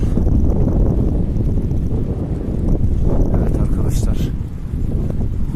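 Heavy, constant wind buffets the microphone in a loud low rumble while cycling, with faint motion noise and brief bits of voice mixed in.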